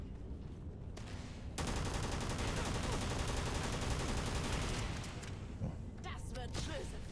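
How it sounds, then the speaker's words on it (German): Grenades go off during a firefight in the video game Starfield, a loud sustained burst of rapid booming blasts and gunfire that fades into scattered smaller shots. "Irgendwas wirft hier Granaten."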